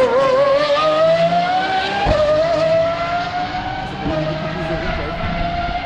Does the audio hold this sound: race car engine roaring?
yes